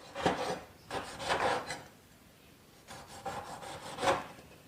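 A knife slices through pork belly on a wooden chopping board in four distinct scraping strokes, close and moderately quiet, with no talking.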